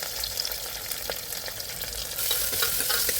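Onion, green chili and curry leaves sauté in a pan with chana dal and fenugreek seeds, a loud, steady close sizzle and crackle while they are stirred, growing slightly louder near the end.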